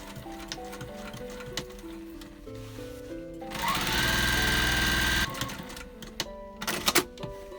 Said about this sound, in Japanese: 端ミシンかけといてあげるね。